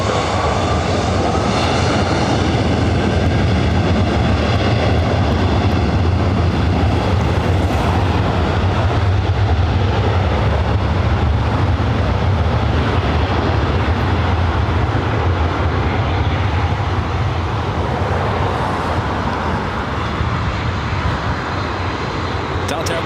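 A jet airliner roars during takeoff on runway 24 right at LAX, a loud, sustained rumbling thunder of engines that swells and stays strong throughout, with faint voices underneath.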